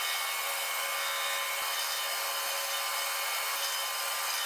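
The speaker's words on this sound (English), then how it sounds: "As those were drying, I made some knobs on the bandsaw." A bandsaw cuts wooden knobs, giving a steady, even high-pitched whirring rasp of blade through wood that holds without a break, close and alone with no talk.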